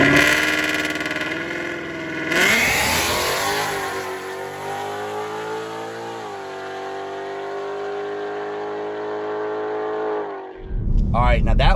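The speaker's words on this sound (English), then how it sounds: "Here's an actual video of a customer's car we put together with a converter, with a centrifugal supercharger at our local 8th mile track" A Mustang drag car with a centrifugal supercharger and a torque converter launches at an eighth-mile drag strip, its engine roaring up loudly, then shifting and pulling hard before fading as it runs away.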